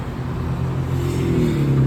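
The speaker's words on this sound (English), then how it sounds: "A lot of cars on the street." Steady engine hum and tire rush from cars at the busy intersection of Crenshaw Blvd and Lomita Blvd in Lomita, with one vehicle revving slightly louder as it moves through, close and constant, with no talk.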